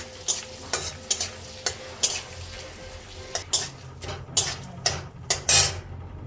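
Bay leaves and crushed garam masala frying in butter in a pan, a soft sizzle under repeated sharp spatula scrapes and clinks against the metal, close and alone.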